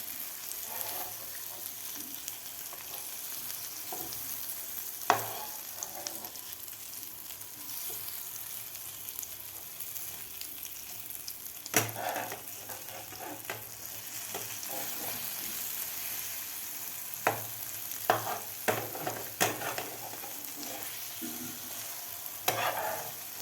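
Capsicum and egg rings fry in a pan for a Maharashtrian breakfast, the underside browning with a soft, continuous sizzle punctuated by occasional crackles and spatula taps, fairly quiet and close with no voices.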